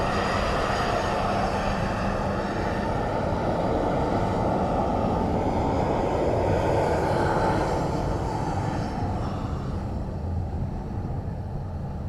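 An ATR turboprop at Dublin Airport during Storm Floris produces a steady, loud engine and propeller drone that fades slightly toward the end, with no talk.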